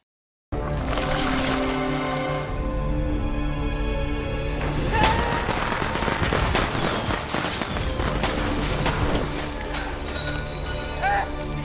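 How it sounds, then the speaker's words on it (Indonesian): Firecrackers crackle and pop in a dense, continuous barrage through a film action scene, set against a loud music and effects backdrop, with bursts clustering toward the middle. "Kang Woo memanfaatkan petasan di tempat itu untuk melawan si parasit."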